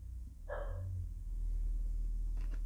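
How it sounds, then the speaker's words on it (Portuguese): A dog gives a single short bark at a distance, heard once against a low, steady indoor rumble. "E aí o cachorro começou a latir"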